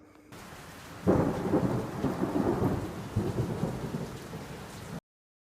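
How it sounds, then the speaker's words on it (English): Steady rain hisses while a deep roll of thunder rumbles in, swelling and lingering for several seconds before cutting off. "We're having a thunderstorm today"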